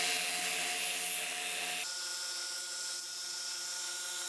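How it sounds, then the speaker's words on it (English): An oscillating spindle sander smooths a plywood piece, giving a continuous high whirring hum with a slight drop in pitch partway through, close and steady with no talk. "I'll bring it over to my oscillating spindle sander and kind of refine the shape"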